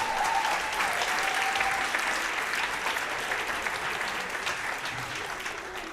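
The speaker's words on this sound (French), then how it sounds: "Vous applaudissez bien fort la promotion 2025 des trophées de l'économie responsable." An audience at an awards ceremony for responsible-economy trophies applauds the 2025 winners; sustained, dense clapping from a large crowd, steady throughout and gradually easing toward the end, with faint voices underneath.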